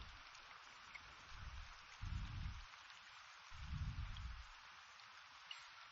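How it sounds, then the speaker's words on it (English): Rain in the fishing video game Fishing Planet, a soft, continuous hiss of falling rain with low rumbling swells, faint and steady throughout. "with the rain, things can be very different"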